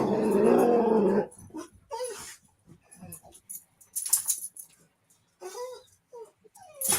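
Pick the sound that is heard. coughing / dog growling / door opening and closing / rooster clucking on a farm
dog growling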